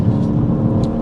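BMW M140i Shadow Edition engine after a downshift into third, a loud, steady engine drone heard from inside the car with no talk.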